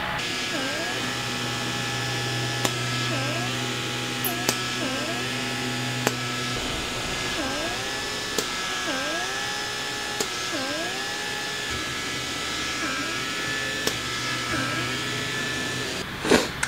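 Project E BeautyVacuum+ blackhead removal suction device running with a steady electric whine, its pitch dipping repeatedly in a regular rhythm as suction catches and releases, with faint clicks between, close and moderately quiet.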